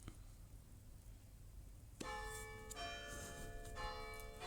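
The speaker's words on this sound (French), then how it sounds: "Petite cloche comme d'habitude." A small bell chime rings out in a video game, with a clear bright strike and sustained ringing tones that decay slowly, followed by a second softer chime a moment later, over a faint steady background hum.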